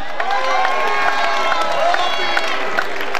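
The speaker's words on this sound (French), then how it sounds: "À l'applaudimètre, c'est Laurent qui gagne." A festive audience at a celebration event claps and cheers loudly, a dense continuous mix of applause, whoops and shouting voices close by.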